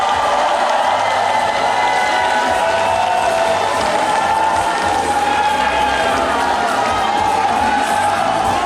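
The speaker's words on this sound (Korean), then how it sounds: "박수 한번 부탁드리겠습니다." A large crowd at a Democratic Party joint campaign rally in a gymnasium claps and cheers loudly and continuously as the candidates re-enter the hall, with shouts rising over the applause.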